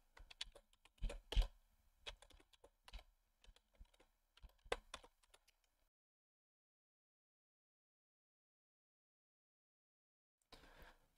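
Close-up keyboard typing: quick bursts of key clicks for several seconds, then silence, then a few more keystrokes at the very end.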